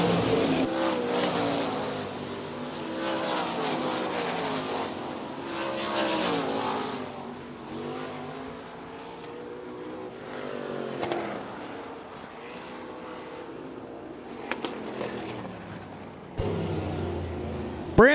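Sprint cars roaring around a speedway during a heat race, a steady loud engine drone with rising and falling passes as the field circles the track, with faint announcer talk underneath.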